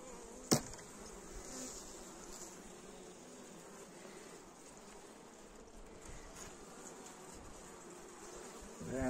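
Honeybees clustered tightly in a hive in winter (February) give off a steady, soft buzzing hum, close and continuous, with a brief tap near the start and no talking.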